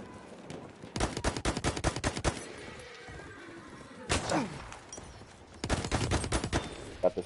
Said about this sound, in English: Kind of pinned down by a sniper.